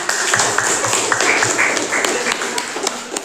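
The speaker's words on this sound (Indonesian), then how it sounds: "tepuk tangan buat Anissa" Classmates clapping for a student named Anissa in a junior high classroom, a close, uneven patter of hand claps with distinct sharp hits, mixed with faint voices throughout.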